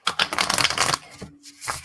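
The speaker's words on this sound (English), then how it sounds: "Oh, I just love shuffling." A deck of playing cards being shuffled in quick riffling bursts, close and fairly loud, with a brief pause before a final short riffle.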